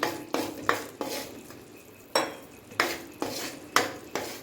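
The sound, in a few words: stirring sugar syrup for puffed rice laddu in a pan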